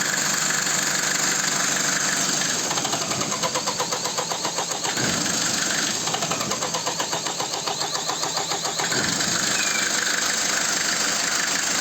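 Mercedes OM601 2.3 turbo diesel fitted in a Volga GAZ-24 runs loudly at close range, a rough, clattering idle with rhythmic knocking and a couple of brief dips in revs, no talk.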